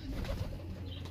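Pigeons in Peshawar, one released from the hand to fly off, give soft cooing and low bird sounds close by over steady outdoor ambience.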